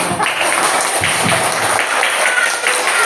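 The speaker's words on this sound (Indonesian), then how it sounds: "terima kasih tepuk tangan buat anak-anak Bapak" A classroom of children claps, scattered and somewhat uneven, with a faint voice or two underneath.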